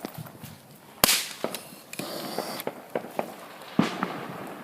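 A whole box of firecrackers crackles in an outdoor fire, with sharp irregular pops and bangs, one loud crack and several smaller snaps over a steady crackling background.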